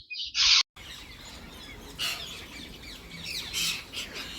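A parrot in a village farm setting gives a loud, harsh squawking call at the start, followed by quieter chirps and distant bird calls against outdoor background noise.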